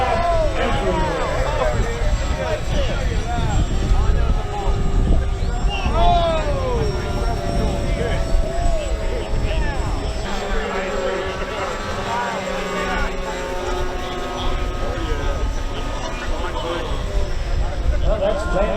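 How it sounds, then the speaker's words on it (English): Around forty RC model airplanes fly over together at a fly-in noon demonstration, a loud, continuous layered drone of many propeller engines with pitches rising and falling as planes pass, while an announcer talks over it. "So if you wonder what a 40 plane flyover looks like, that's kind of it."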